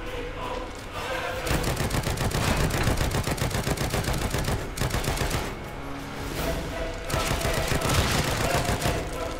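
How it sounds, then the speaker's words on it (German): Assault rifle gunfire in The Evil Within 2 video game: dense rapid automatic bursts, loud and close, separated by brief pauses, with game effects underneath. "jetzt hol das Maschinengewehr raus, also das Sturmgewehr"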